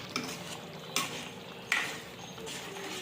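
A spoon stirs fenugreek leaf curry in a pot, giving a soft, steady scraping swirl with a few sharper clinks against the metal rim, quiet and with no voices.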